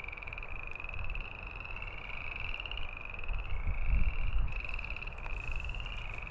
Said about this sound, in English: The frogs are really going now.